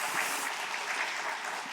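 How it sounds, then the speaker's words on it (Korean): A congregation at a dawn church worship service claps together, a dense, steady wash of applause close by and filling the room. "우리 박수로 한번 격려 한번 해주시면 좋겠습니다"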